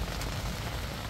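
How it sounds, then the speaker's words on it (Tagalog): Heavy rain pouring steadily on a farm campsite during a strong storm, a dense, constant hiss close by with no talk over it. "And enjoyin yung tunog ng ulan kasi"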